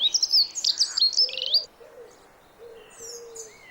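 A dunnock, or hedge sparrow, calls in a suburban British garden in springtime. A quick run of high, bright chirps and trills comes first, followed by fainter, scattered notes against a quiet outdoor background.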